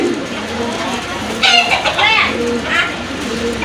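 A pair of fantail pigeons calling up close, a short burst of cooing sounds over a soft background murmur, with brief voices nearby.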